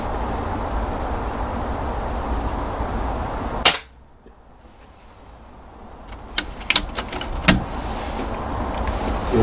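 Single sharp gunshot fired at a splatter target, a loud crack near the start followed by a quieter stretch of outdoor ambience with a few small clicks and knocks.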